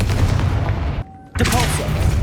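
A Confringo blast spell goes off in the video game Hogwarts Legacy, heavy booming explosions filling the clip with a brief lull before another loud blast and rumbling debris.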